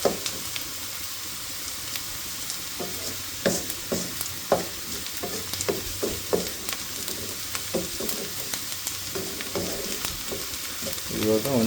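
Onions frying in a pan until browned make a steady crackling sizzle, dotted throughout with close, irregular clicks and scrapes from a utensil stirring them.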